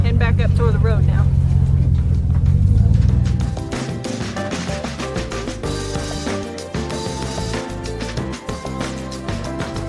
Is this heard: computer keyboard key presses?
no